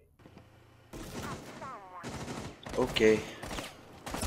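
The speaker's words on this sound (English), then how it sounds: "He shot me through the wall?" Bursts of rapid gunfire penetrating a wall in Rainbow Six Siege, several dense volleys at close range over a faint background hum, with a brief spoken word between them.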